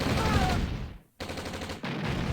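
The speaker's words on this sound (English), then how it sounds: "Pillbox, targeting a tank." Pillbox defence in the Red Alert strategy game firing at a tank: dense, loud bursts of gunfire and explosions fill the clip, broken by a brief pause near the middle before the barrage resumes.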